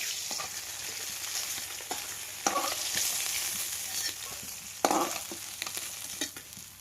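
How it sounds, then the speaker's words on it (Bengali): Fish frying in a pan give a continuous close hiss of sizzling oil, with occasional louder spatters and stirring scrapes, fairly quiet overall and with no one speaking. "মাছগুলো লাল লাল করে ভাজা হয়ে গেছে"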